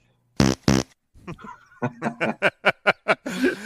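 Two loud sharp fart noises burst out, then after a pause come snickering and a run of rhythmic chuckles, likely from people reacting to the joke on a talk show.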